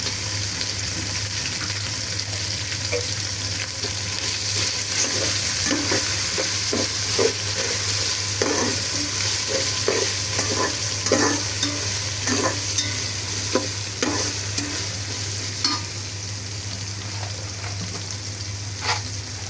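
Ginger, garlic and cinnamon fry in a pan for chicken bhuna, a constant sizzle over a low hum, with frequent close scraping stirs and clinks through the middle.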